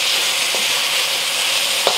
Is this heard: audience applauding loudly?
no